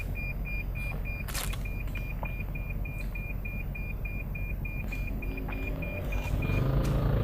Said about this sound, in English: it's going to keep on beeping until the motorcycle moves off